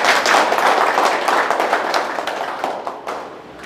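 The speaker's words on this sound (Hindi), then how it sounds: "आप लोग सब इनका दिल से और तालियों से इस्तकबाल करें।" An audience claps steadily to welcome a guest at a formal gathering in Chhattisgarh, a dense wash of many hands that stays loud and full, then slowly thins and fades toward the end.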